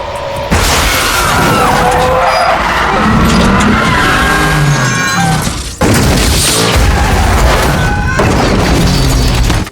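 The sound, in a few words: Ferrari car chase with skidding tires in a film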